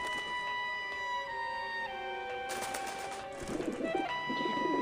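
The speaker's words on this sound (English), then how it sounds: "these birds are fucking vicious" Cooing birds in the video game Grim Fandango Remastered, soft repeated coos over a steady layered game soundscape, growing a little louder and busier toward the end.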